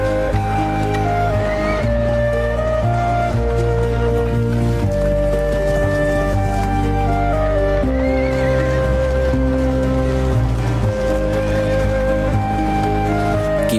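Horses at an ancient Egyptian military camp whinny and neigh over steady clip-clop, heard loud and continuous within a dense, sustained musical bed.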